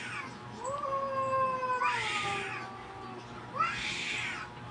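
Two cats fight at close range, trading long, rising and falling caterwauls and yowls that break into two sharp, harsh hissing bursts.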